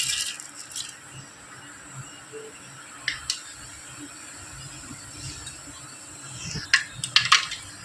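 Cumin and mustard seeds crackle in hot oil for tomato chutney, a steady faint sizzle with scattered sharp pops that cluster more densely toward the end, close and without talk.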